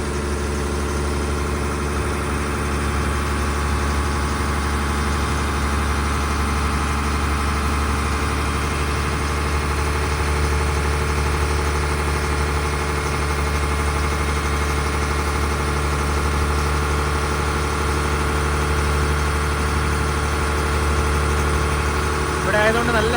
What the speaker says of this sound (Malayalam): ആലപ്പുഴയിൽ നിന്ന് കോട്ടയത്തേക്കുള്ള ബോട്ട് പുറപ്പെട്ടിരിക്കുകയാണ്